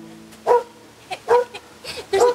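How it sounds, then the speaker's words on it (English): Dog barking at a wilderness park from inside a truck, sharp, fairly close barks in about four bursts across a quiet background. "There's a dog walking by"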